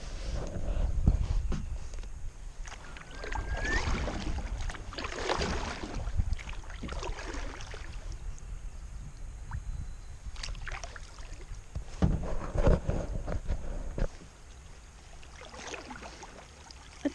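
A kayak drifts on a river, with soft paddle splashes and water sloshing against the hull up close, along with faint wind and occasional knocks.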